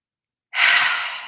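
One deep, slow exhale during guided relaxation breathing, a breathy rush of air that comes after a second of silence, swells quickly, then fades gradually, close and clear.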